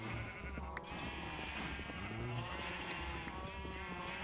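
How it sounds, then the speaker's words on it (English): Sheep in the Minecraft video game bleat repeatedly in wavering cries over a steady background, moderately close, with several overlapping calls across the stretch. "You've transformed our green sheep."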